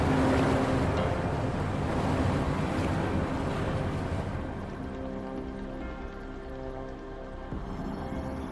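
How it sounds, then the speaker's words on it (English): Water level dropping in the game Wuthering Waves, a steady rushing, wave-like wash that starts loud and eases slightly partway through, with no voices. "The water level just dropped again."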